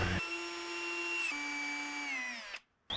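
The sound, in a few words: drill with accessory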